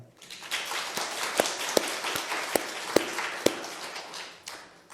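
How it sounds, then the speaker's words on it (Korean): A church congregation claps together in a brisk, fairly even rhythm, with several sharp individual claps standing out before the applause fades away at the end. "여러분, 이 아름다운 사건을 인해서 박수 한번 보내볼까요?"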